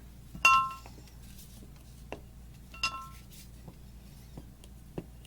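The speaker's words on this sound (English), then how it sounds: "I'm going to go ahead and get my spatulas out" Metal spatulas for cold process soap making clink against each other as they are taken out, with two bright ringing clinks a couple of seconds apart followed by a few lighter taps in a quiet room.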